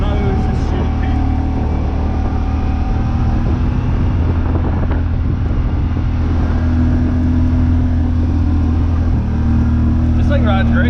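A Yamaha RMAX 1000 side-by-side drives along with a steady, loud engine drone and rumble throughout, while people talk over the noise.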